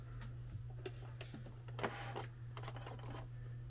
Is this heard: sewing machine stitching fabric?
yes